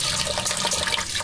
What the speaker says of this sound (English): fill the pot about 2/3 of the way with water